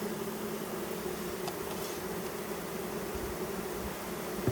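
Honeybees fanning their wings at a hive entrance, a dense steady buzzing drone from many insects close to the microphone, continuous and unbroken with no voices.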